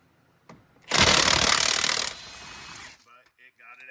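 A high-powered battery impact wrench hammers loudly for about a second on a tight crankshaft bolt of a Honda 3.5 V6, then the engine bay goes quieter with a lighter mechanical rattle and clicks nearby.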